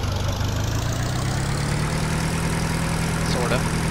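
A tractor in Farming Simulator 2013, with an old tricycle-style front end, pulls a plow. Its engine drones steadily, loud and continuous, with a faint pitch rise and no break in the rumble.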